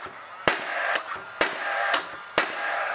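An orange 18-gauge nail gun fires nails in four sharp, loud cracks spaced roughly half a second to a second apart, each followed by a brief ringing tail over a low background hum.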